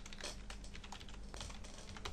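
Fast, uneven tapping on a computer keyboard as a username and password are typed in, a steady run of close key clicks with no talking.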